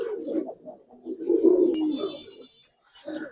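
Low, throaty cooing from Giribaz and Army pigeons rises and falls in close rolling phrases, with a faint high tone, a short pause near the end, then another coo.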